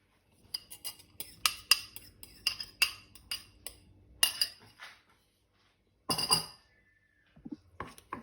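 Scrambled egg is being mixed in a pan with melted butter, giving a quick run of bright metallic clinks and scrapes from a utensil against the pan, then a pause and a few more taps.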